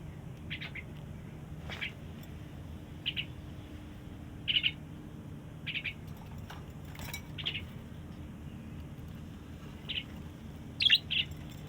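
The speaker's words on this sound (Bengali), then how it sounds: "অনেক সুন্দর সুন্দর পাখিগুলো" Short bird chirps sound at intervals, a handful of brief, fairly faint calls spaced over a low steady background hum, with no talking.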